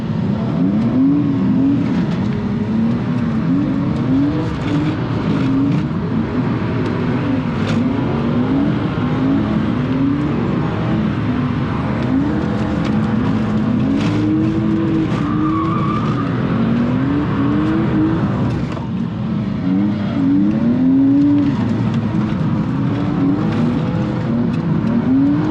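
A BMW E46 drift car at a winter drifting competition in Toruń, its engine revving hard and rising and falling in a steady rhythm over continuous tire squeal and skidding, loud and close throughout.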